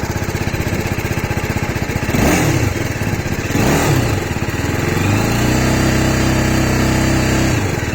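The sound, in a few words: TVS Apache RR 310 motorcycle engine revving, exhaust note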